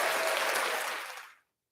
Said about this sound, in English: Yeah, there's an applause button right here.